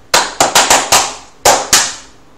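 A teacher claps her hands alone during a sixth-grade music lesson: seven sharp, close claps, a quick run of five followed by a brief gap and two more, with no talking.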